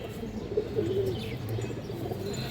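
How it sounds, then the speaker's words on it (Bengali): Racing pigeons coo softly in low, rolling calls close by, under a steady background hum. "এগুলো রেজিং লাইনের কবুতর"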